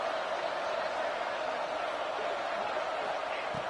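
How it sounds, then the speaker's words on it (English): A football stadium crowd roars steadily as fans try to lift the defense for a red zone stop, a dense, unbroken wall of noise throughout. "And here comes the noise. This crowd is trying to inspire this defense to make a big red zone stop."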